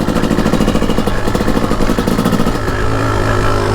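A 2004 Kawasaki KX 250 two-stroke dirt bike engine runs loud and close, a dense, buzzing, steady drone with slight rhythmic flutter and a small shift in pitch partway through, with no talking.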